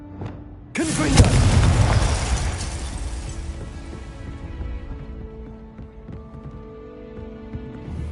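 A Confringo blasting spell in the video game Hogwarts Legacy bursts into a sudden loud explosion, followed by a rumbling decay and lingering crackles that fade over several seconds.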